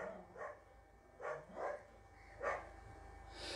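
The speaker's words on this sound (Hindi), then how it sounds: "24 घंटे कुत्ते भौंक रहे हैं" Street dogs bark in short separate bursts, three or four barks spaced apart, faint and somewhat distant over a low background hum.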